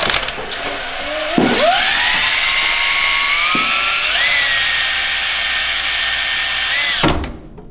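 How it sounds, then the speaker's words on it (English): A power drill whines loudly and continuously at close range while removing a pedal assembly from a Cummins truck, pitch rising as it spins up, then cuts off near the end. "So, got our drill hooked up."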